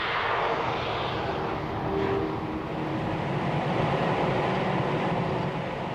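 A Rover coupe production car at maximum revs in top gear, nearly 160 mph on a banked high-speed test track, a steady distant roaring rush of engine and wind that holds at an even level without voices.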